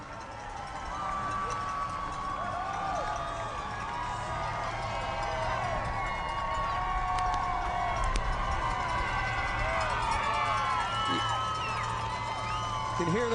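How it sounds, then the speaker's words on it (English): Roadside crowd at the 2014 Chicago Marathon cheering and calling as elite runners pass, a steady dense wash of voices with whistles and shouts, continuous and fairly loud throughout. "You can hear the crowd."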